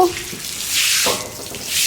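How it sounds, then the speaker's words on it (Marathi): Water running steadily from a tap or hose for washing down a house terrace, a close, continuous rushing hiss over a short stretch with no talking. "अथक प्रयत्नानंतर आलं पाणी"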